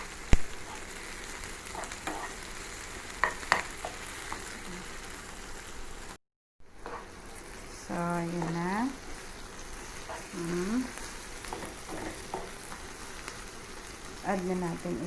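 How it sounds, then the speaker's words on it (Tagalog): Garlic fries in oil in a pan as shrimp paste with egg is prepared, giving a steady sizzle that runs throughout, broken by a brief silent gap and occasional clinks, with a voice speaking intermittently over it. "Hintayin din natin mag-golden na yung ating garlic."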